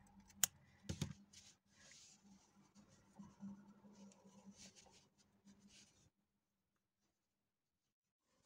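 Scissors snip crochet yarn for a rainbow twisted headband, a few sharp quiet cuts and small handling clicks close by, then silence.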